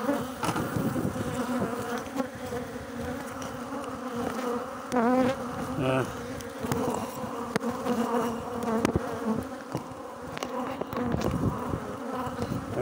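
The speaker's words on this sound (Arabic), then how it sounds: "شاهد الكثافة النحلية، لدينا خلية بكثافة نحلية، هذه سلالة لي جد شرسة." A dense honeybee colony of a very aggressive strain buzzes at an opened hive, a loud, steady, close drone of many wings that holds for the whole stretch without talk.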